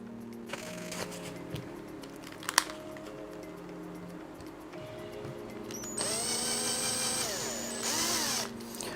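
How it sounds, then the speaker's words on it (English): A small power screwdriver drives screws into the differential of a ZD Racing Thunder B-10E RC car, whirring in short close bursts with clicks and handling noise, then a longer sustained whine near the end. "I'm not screwing those all the way down."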